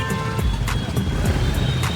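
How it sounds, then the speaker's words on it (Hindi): Busy road traffic outside a town fair in Hardoi, India: a steady close engine rumble with repeated horn honks, while voices talk over it. "भाई, ट्रैफिक"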